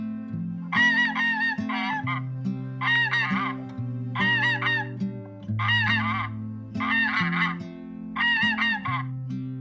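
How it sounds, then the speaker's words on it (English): Repeated bursts of nasal goose honking in regular clusters, loud and close, over a steady low droning background. "The funny goose honked a loud hello."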